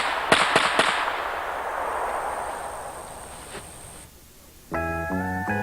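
Three sharp shots from a small .22 pistol ring out in quick succession, followed by a long hissing wash of noise and then music entering near the end.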